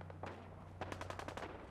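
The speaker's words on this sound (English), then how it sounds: "Why gunshots?" Rapid gunfire in the video game Fallout 4, a quick burst of sharp, crackling shots that starts sparse and then comes in a dense volley, mixed into game ambience with a steady low hum underneath.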